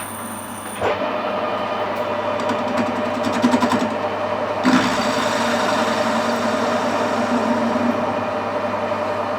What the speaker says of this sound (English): Just warm the lathe up a little bit